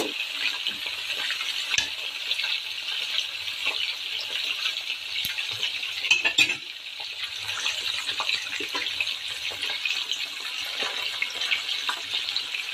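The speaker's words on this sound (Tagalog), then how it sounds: "I-prito ko muna ito" A steady, crackling sizzle of chicken frying in a pan runs throughout at moderate level, with a few faint clinks and no talking.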